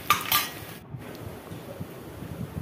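Two chopped onions frying in a pan for egg gravy, with a couple of metal utensil scrapes and clinks at the start over a soft, steady sizzle.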